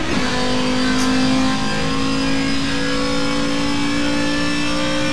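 A Group 5 race car engine in Forza Motorsport revs high and steady, loud and close throughout, a continuous sustained drone with no voices over it.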